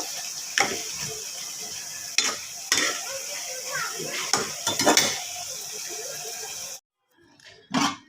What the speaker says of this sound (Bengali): এটা একটু ভাজা ভাজা একদম পোড়া পোড়া হবে